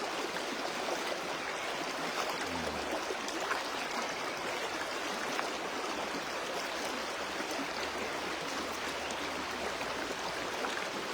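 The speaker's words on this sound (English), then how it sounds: "Feel free to enjoy the sound of the river and just breathe." A river flows steadily and continuously, a broad, even rush of water close by with no voices and no breaks.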